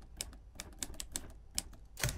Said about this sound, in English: the first thing that we hear in the track are these typewriter sounds